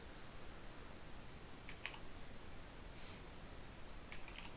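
Soft keyboard typing at a computer, a few brief faint clusters of key clicks over a quiet hiss, with no voices.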